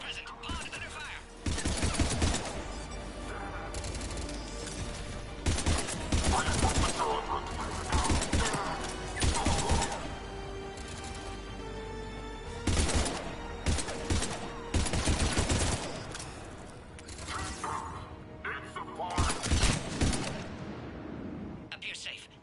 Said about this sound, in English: Enemy still present! Pod under fire!